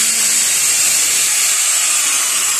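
A power drill running at home during work on window blinds, giving a loud steady high whirring hiss that holds without pause for the whole few seconds.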